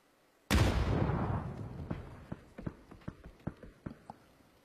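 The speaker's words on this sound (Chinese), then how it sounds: "脚下有人开枪" A loud gunshot bursts close by in a PUBG esports match, followed by a trailing echo and a run of sharp, irregular clicks and taps fading off.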